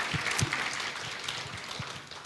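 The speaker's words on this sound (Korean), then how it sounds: "우리 새가족 여러분도 한번 진심으로 한번 환영의 박수 한번 하겠습니다" A church congregation claps together to welcome new members during a Sunday service, a steady, moderately distant wash of applause lasting a couple of seconds.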